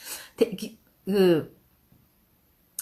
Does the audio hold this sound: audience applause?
no